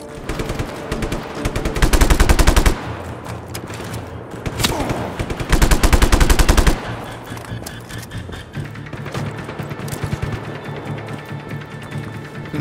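Automatic gunfire in the open-world action game Just Cause 3, with two long, loud sustained bursts separated by quieter stretches of lighter shooting and mechanical clatter.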